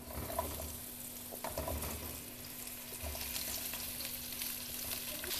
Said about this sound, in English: So while now the pumpkin is here in the pan, we let it fry a little bit just to give it a stir